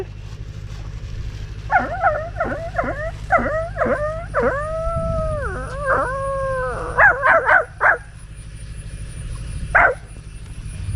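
A dog howls in a series of drawn-out, wavering cries with a few short yips, fairly close, over a low steady rumble in the background, during a forest off-road jeep ride.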